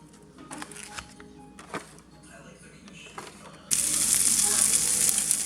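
Sausage frying in a pan in a home kitchen, with a faint hiss early on that jumps to a loud, steady, bright sizzle partway through and holds to the end.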